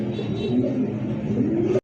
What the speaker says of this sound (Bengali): এই মুহূর্তে দেখতে পাচ্ছেন ঝর্ণা শাটিন সিঙ্গেল একটা কবুতর।